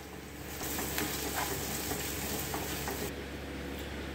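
Kashmiri red chili and turmeric get stirred and mixed in a pan while making restaurant-style malai kofta, a steady soft sizzle with a gentle scraping stir running throughout, fairly quiet and with no talking.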